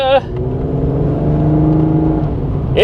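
A 1988 Chevy Cavalier Z24 with a 2.8 engine accelerates. The engine drone climbs steadily in pitch and holds loud and close, and a voice cuts in briefly at the start and again at the end.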